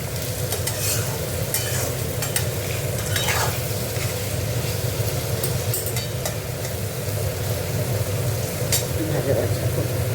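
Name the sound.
food frying and being stirred in a pan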